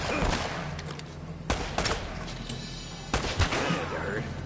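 Gunfire in the video game Uncharted: Drake's Fortune: rapid bursts of shots and sharp cracks repeat across the moment, with a player's voice talking over the game sounds.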